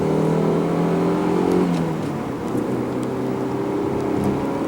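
A car engine pulls hard in second gear with the air conditioning on, a loud steady rising drone that keeps climbing in pitch across the whole stretch.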